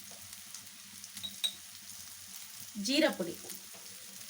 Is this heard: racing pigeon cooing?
no